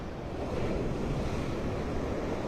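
Big surf during Tropical Storm Debby at high tide on Vanderbilt Beach in North Naples, Florida: a continuous loud roar of breaking waves mixed with wind buffeting the microphone.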